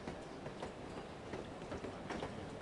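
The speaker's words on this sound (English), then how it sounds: "I love riding the train." Steady, low rumble of a train in motion in No One Lives Forever, a faint continuous rolling drone with soft rhythmic clatter and no voices.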